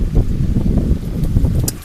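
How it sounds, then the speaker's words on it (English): Strong winter wind blows outdoors, buffeting the microphone with a continuous low, rumbling roar that swells and dips in gusts throughout, with no speech. "It's really windy right now."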